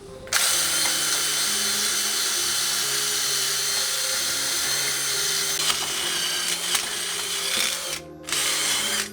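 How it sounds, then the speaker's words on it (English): A power-driven wire brush scours the hub mating surface of an Evo 9 brake assembly, a loud continuous high whine and rasp close by, briefly dropping out near the end before resuming. "Thoroughly clean the hub mating surface, preferably using a wire brush before installing the rotor."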